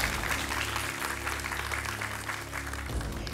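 Studio audience applause on a quiz show, a moderate steady patter of clapping over a low electrical hum, lasting a few seconds.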